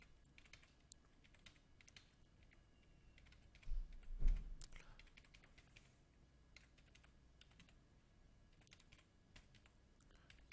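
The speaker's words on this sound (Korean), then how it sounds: "막상 이렇게 해보시면은 한글 입력하는 것과 다름없이 자리만 외우면 영어도 금방금방" Fingers type on a computer keyboard during a beginner computer lesson on entering English and Korean text, a steady patter of close key clicks with a brief louder flurry midway.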